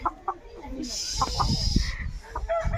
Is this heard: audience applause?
no